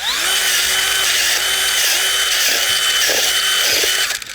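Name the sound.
power planter auger drill digging into soil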